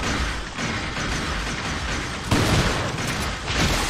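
Rapid gunfire bursts from the video game Resident Evil 4, a dense continuous barrage with sharp booming impacts that grow louder near the end, filling the whole stretch without pause.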